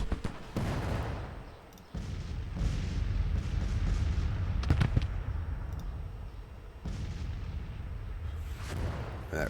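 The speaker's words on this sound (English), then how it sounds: "That brigade just broke under artillery fire." Artillery and rifle fire from a Civil War battle in the Grand Tactician video game keeps up as a steady dense rumble, with heavy booming cannon blasts and crackling musket volleys throughout.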